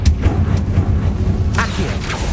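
A Confringo fire spell explodes in Hogwarts Legacy, a sharp burst partway through rising out of a dense, continuous bed of game sound and music.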